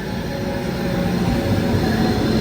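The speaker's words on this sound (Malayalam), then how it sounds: "മുംബൈ ലോകമാന്യ തിലക് തിരുവനന്തപുരം നേത്രാവതി എക്സ്പ്രസ് ഇതാ ചെറുവത്തൂർ റെയിൽവേ സ്റ്റേഷൻ്റെ 2ാം നമ്പർ പ്ലാറ്റ്ഫോമിലേക്ക് കടന്നു വരികയാണ്." Netravati Express train with a WP7 locomotive arriving at platform 2 of Cheruvathur railway station: a loud, steady rumbling roar of the moving train, continuous and close throughout.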